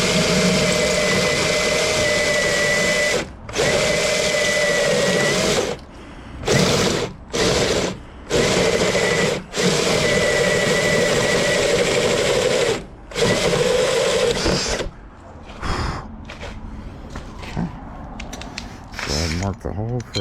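A drill bores through a steel door to prep it for a full deadbolt, a loud steady grinding whine in long runs broken by short pauses, ending with quieter clicks and handling noise.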